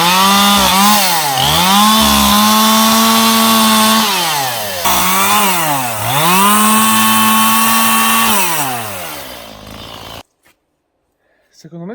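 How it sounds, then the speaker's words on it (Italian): A chainsaw runs loud and close for about ten seconds, its engine revving up and dropping back in repeated swells before cutting out into near silence, with a brief faint noise at the very end. "non è possibile che continui ad avere così tanti problemi con la motosega"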